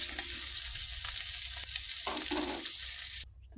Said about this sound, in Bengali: একটু করে ভেজে নেব লাল লাল করে ভাজা তুলে নেব